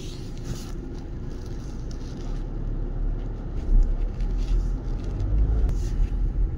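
Tata Harrier driving along a road, heard from inside as a steady low rumble of engine and tyres that grows slightly louder toward the end, with no talk.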